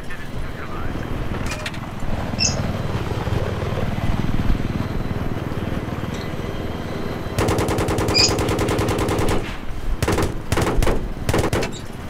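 A military helicopter in the video game Battlefield 3 drones steadily through combat, its rotor hum joined midway by rapid bursts of machine-gun fire that stutter in sharp clusters near the end.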